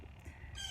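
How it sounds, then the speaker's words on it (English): A loud bird, likely a rooster or chicken, calls nearby on a morning outdoors, its clucking and crowing notes filling the short moment with no talk over it. "Loud bird."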